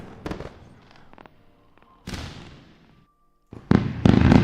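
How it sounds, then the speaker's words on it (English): Fireworks burst in several loud crackling explosions, with a short whistle between them and a dense crackle building toward the end. "Fireworks."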